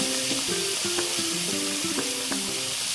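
Potatoes and chopped tomatoes sautéing with turmeric in a pan, a dense steady sizzle beneath a series of short tonal blips, close and even throughout.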